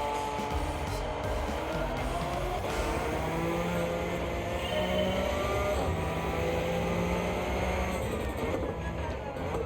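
Race cars in Gran Turismo 7 drone and whine continuously, with engine pitch rising and shifting as they race at steady, moderate loudness.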